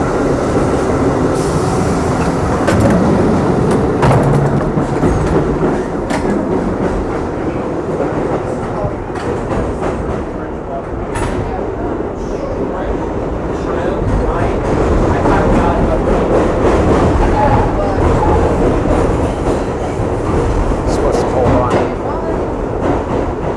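A New York City subway train riding along, a loud steady rumble with rattling wheel clatter throughout, passengers talking faintly beneath the noise.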